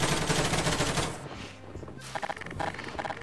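Rapid automatic gunfire from a gun in the video game Garry's Mod rattles in a dense burst, then pauses before a few shorter bursts, with no voices over it.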